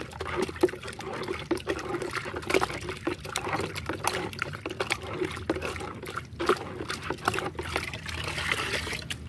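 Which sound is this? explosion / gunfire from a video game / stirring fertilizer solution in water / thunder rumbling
stirring fertilizer solution in water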